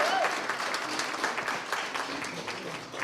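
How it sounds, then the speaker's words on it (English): An audience claps steadily at a talk, a dense patter of applause sustained for a few seconds at moderate distance, with a brief voice heard over it. "So clap it up for Dennis as well."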